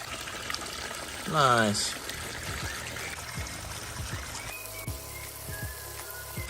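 Water pours into an outdoor salamander pond lined with rocks, a brief louder splashing gush followed by steady trickling and dribbling, with a voice speaking briefly over it.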